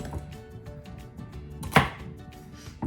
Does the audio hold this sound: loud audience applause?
no